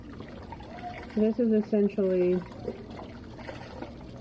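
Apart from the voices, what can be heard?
pouring chicken broth into pot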